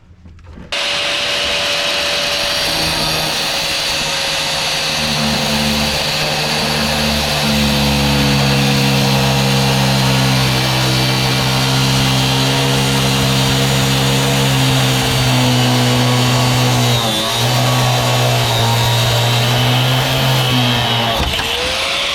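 Cutting disc on a power tool slicing through a truck bed to remove it, a loud, steady whine with a droning tone that shifts pitch as the blade bites, running continuously for about twenty seconds with no talk.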